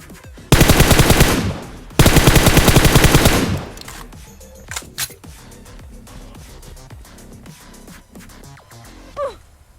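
Two long, dense bursts of rapid automatic gunfire from bots shooting in PUBG Mobile on the Livik map, loud and close, followed by scattered quieter shots and in-game clatter.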